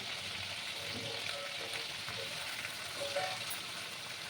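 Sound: ginger, garlic and green chilli paste frying with prawns

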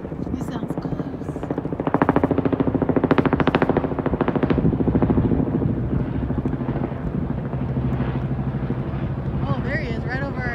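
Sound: helicopter flying close overhead

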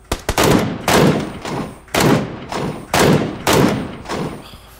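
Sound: gunfire from snipers in PUBG video game

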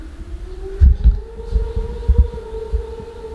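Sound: cyclone wind howling outside

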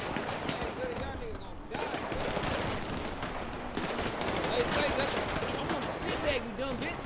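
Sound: gunfire in a video game roleplay

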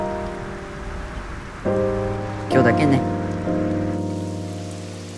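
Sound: rain falling

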